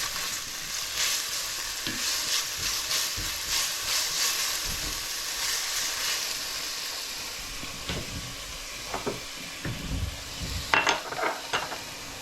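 Onions sizzle and fry in a pan while being stirred, with scraping and clinks of a utensil against the pan, steady frying under occasional louder stirring strokes, no talking.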